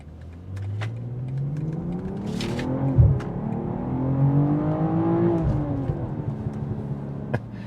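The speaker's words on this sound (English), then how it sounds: "It's hard to compete with the sound that this engine gives. It's just that iconic BMW growl." BMW M440i sports sedan engine growling as it pulls away from a stop sign and accelerates, revs climbing through gears with a rising then falling tone, heard close from inside the car.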